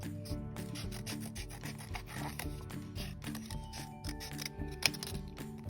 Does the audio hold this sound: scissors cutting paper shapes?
yes